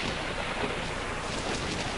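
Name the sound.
thunderstorm with rain and thunder, film sound effect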